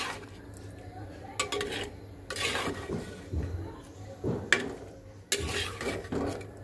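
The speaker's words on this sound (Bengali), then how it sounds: "এর মধ্যে দিয়ে দেব আমি ভেজে রাখা রোস্টের মাংসটা। খুব সুন্দর করে মিশিয়ে দেব।" Fried chicken roast meat being mixed into masala in a pan, with repeated metal spoon scrapes and clinks against the pan over a low sizzle, close and moderately quiet.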